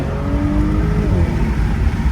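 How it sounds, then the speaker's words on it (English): A 2024 Audi S5 Sportback engine revs under acceleration in sport mode, a close, steady droning growl with rising harmonic tones, heard from inside the cabin without talk. "you can hear just the revving of the motor"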